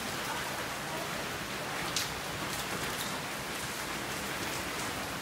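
Rain lashes down hard in an Orlando, Florida storm, a loud, steady broadband hiss of drops pounding close surfaces with a brief louder splash partway through.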